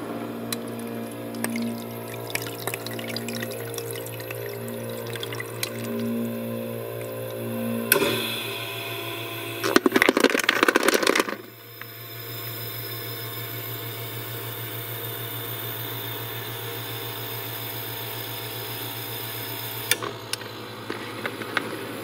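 A countertop ice maker runs while making a batch of large ice cubes: a steady motor hum with a faint rhythmic ticking, then a loud clattering burst as cubes drop, followed by quieter running and trickling.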